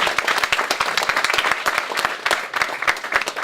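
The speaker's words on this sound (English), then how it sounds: "come on, round of applause, guys" Audience applause at a student hackathon opening, dense steady clapping from many hands filling the room, loud and continuous throughout with no voices over it.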